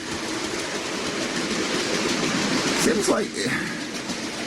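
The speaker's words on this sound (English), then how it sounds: "So we're just watching the whole train." An OO gauge Bachmann SDJR 7F model locomotive runs with a rake of Dapol and Hornby wagons, giving a continuous close whirr and rolling rattle on the track while a person talks over it.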